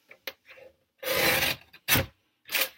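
Paper guillotine trimmer cutting card for a handmade card: a few short dry rasping strokes, then a longer loud slicing pass and two sharp close cuts.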